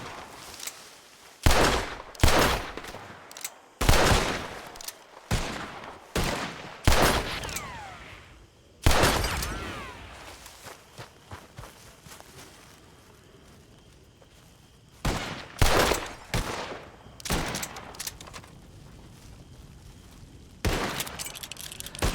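Gunfire from a revolver fanned rapidly in Red Dead roleplay on WildRP: loud sharp shots fire in quick bursts and single cracks, with quiet gaps between the volleys and no talk over them.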